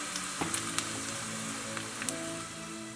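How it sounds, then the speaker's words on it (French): Batter-coated carrot-top fritters frying in hot oil give a steady, close hiss of sizzling with scattered pops and crackles throughout, and no voices. "il suffit ensuite de tremper ces fans dans la pâte obtenue et de les faire cuire aussitôt dans de l'huile chaude"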